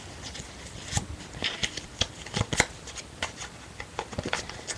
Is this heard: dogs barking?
no